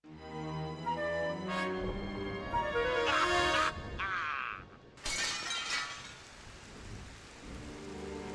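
A stained glass window shatters in the Discworld video game, a loud crash of breaking glass with bright scattered shards, then a second burst of smashing, all over a steady rain-like wash of noise.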